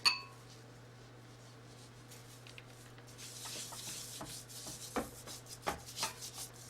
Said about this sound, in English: Now I'm going to sprinkle it all over the lamb. Kind of rub it in as you're going.